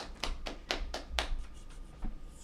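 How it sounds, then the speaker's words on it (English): Hand claps ring out at a law class, a handful of sharp, evenly spaced claps in a quick rhythm that are fairly quiet, with one last clap after a short pause. "clap it up for Uncle Thummy up"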